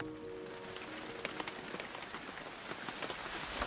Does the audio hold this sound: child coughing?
no